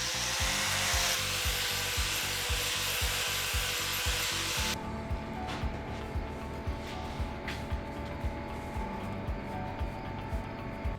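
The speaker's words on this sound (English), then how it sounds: "The trim is cut to length and finished with a 45-degree angle." A power saw cuts wooden trim to length for a window in a log home, making a steady mechanical whine with rapid rhythmic pulses; the pitch drops partway through as the blade bites into the wood, close and loud with no speech.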